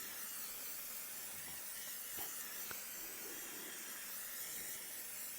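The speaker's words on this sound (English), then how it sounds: "And just lightly spray it." Aerosol protector spray misted lightly onto suede, from a sprayer that leaks: a continuous soft, faint hiss that holds steady from start to finish, with no voices.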